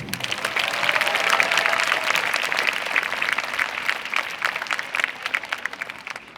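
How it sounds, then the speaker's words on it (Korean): A crowd at a citizens' rally in Yeongju against a lead smelter breaks into sustained applause, many hands clapping in a thick, continuous patter that holds steady before thinning slightly toward the end. "박수 한번 쳐주십시오"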